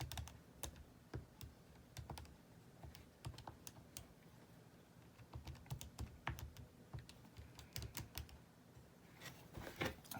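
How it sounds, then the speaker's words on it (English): Buttons pressed on a calculator while entering statistics figures, a quiet, irregular run of small plastic taps and clicks over a low room hum, with no speech. "let's make sure we can get that typed into the calculator correctly"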